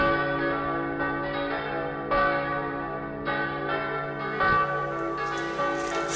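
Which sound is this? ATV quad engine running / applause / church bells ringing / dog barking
church bells ringing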